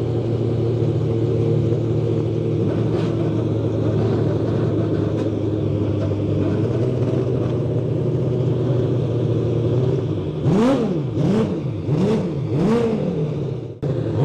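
Historic racing car engine running loud and steady at idle, then revved in several sharp rising blips toward the end before cutting off abruptly.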